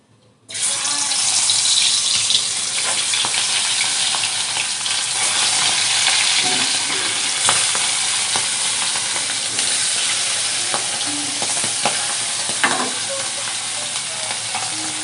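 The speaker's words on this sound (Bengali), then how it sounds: "লবণ হলুদ মাখানো সরমপুটি মাছগুলো এবার ভেজে নেব" Small sarpunti fish rubbed with salt and turmeric fry in hot oil, giving a loud, steady broadband sizzle that starts abruptly and runs unbroken with occasional pops and spatters.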